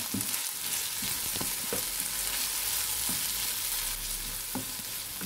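Tomatoes sauté with a pinch of salt in a pan, giving a continuous moderate sizzle with occasional spatula scrapes and knocks spaced a second or so apart.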